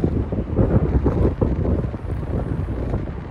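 Strong wind buffets the microphone outdoors in a constant gusty roar, loud and close, with no voices.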